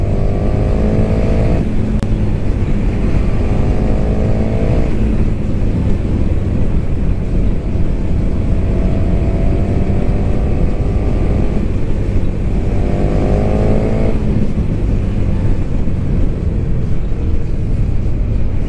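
A 2020 KTM SuperDuke 1290 R motorcycle ridden through corners, its engine note rising through the gears, dropping off and climbing again in repeated loud surges over constant road and wind rush.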